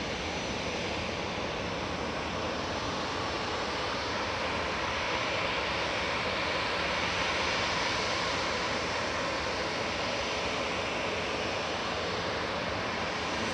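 A 13-year-old Airbus A320 Classic jet at Manchester Airport gives a continuous loud engine roar that stays nearly constant throughout, close and without talk.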